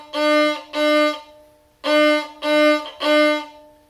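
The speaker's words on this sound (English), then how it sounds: "once we make our first bow sounds, it might even sound like this." Five sustained bowed notes on an orchestral string instrument, steady and fairly loud with a short gap after the second, played alone as a beginner's first bow strokes.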